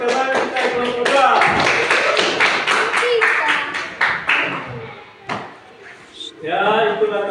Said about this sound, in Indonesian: berikan tepuk tangan untuk teman kita kelompok 2